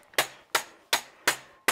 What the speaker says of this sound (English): We're gonna bang on this thing from all sides